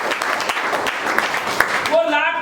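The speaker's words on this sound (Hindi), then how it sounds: "मैं चाहूंगा उस लाखपति के लिए एक बार जोरदार ताली।" An audience at a business leaders' meeting claps for a newly made lakhpati, a moderate spread of applause under a voice, which cuts off near the end as talk takes over.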